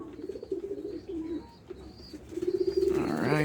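Pigeons coo in a rola pigeon loft, several soft, throaty calls repeating at close range, building into a louder, fuller burst of cooing near the end.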